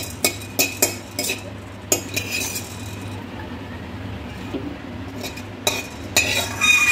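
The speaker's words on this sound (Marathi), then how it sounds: "आपण आधी लवंग, जिरे आणि दालचिनी सर्व गरम करून घेऊ" Cloves, cumin and cinnamon stirred in a hot kadai, with a metal spoon clinking and scraping against the pan in sharp, irregular knocks over a low background hum, nearby and without speech.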